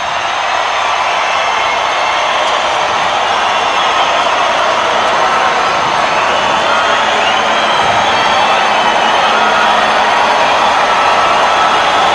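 Boxing arena crowd for Roy Jones Jr vs Tony Thompson, a steady loud roar and cheer filling the hall as the crowd waits for Jones to come out, continuous and dense throughout.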